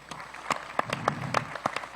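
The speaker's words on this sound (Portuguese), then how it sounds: "palmas para todo mundo" Scattered handclaps from a small audience at a live talk-show interview event, sparse and uneven, a few distinct claps standing out over a quiet room rather than full sustained applause.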